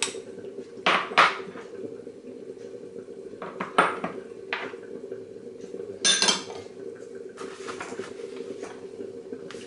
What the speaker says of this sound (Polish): Przesieję przez siteczko.